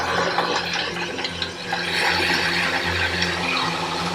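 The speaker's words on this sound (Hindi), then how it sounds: "अब हमने इसको ग्राइंड कर लेना है" A kitchen grinder runs steadily up close, churning apricot and tamarind chutney with a loud mechanical whir and a rattling, slightly squealing motor hum that holds for the whole stretch, with no talking.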